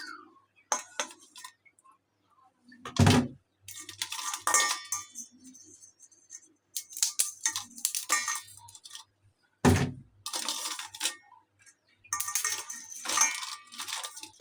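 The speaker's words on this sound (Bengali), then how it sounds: "এখন আমি কাঁকড়াগুলো কেটে নিব," Raw crabs are cut into pieces by hand in a kitchen, giving intermittent sharp cracks, clinks and thuds of shell and utensils, near and separated by quiet gaps.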